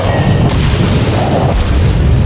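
A deep naval artillery boom from the World of Warships game rolls out as one heavy, sustained rumble, loud and close, with a second swell of low thunder midway.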